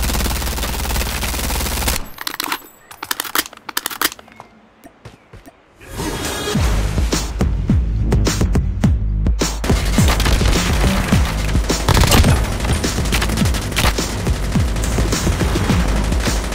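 Chopper machine gun in Call of Duty Mobile fired from the hip, loud continuous bursts of automatic gunfire with booming impacts, broken by a quieter gap of scattered shots before the heavy firing resumes.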